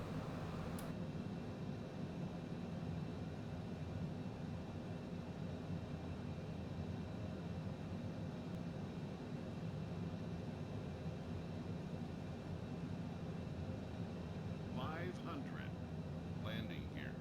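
Airplane approaching to land beside the pyramids in a flight simulator, a steady low engine drone and airflow rumble, quiet and unchanging, with a couple of faint clicks near the end.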